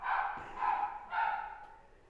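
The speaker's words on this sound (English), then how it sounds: "Did you hear my dog barking?" A dog nearby gives three distinct barks in quick succession, moderately loud and alone, with no voices.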